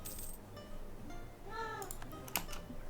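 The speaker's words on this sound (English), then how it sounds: "Sorry about that, Dylan's my cat, as some of you may already know by now, and he's quite loud" A pet cat gives a loud meow mid-clip, rising and falling in a drawn-out wail, with a few soft clicks and background noise around it and no speech.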